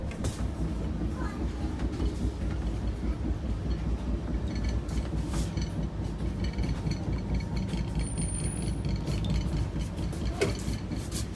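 Howrah Rajdhani Express in motion, heard from inside a first AC coach: a steady, continuous low rumble and rattle of the running train, with faint clicks and mechanical ticking throughout.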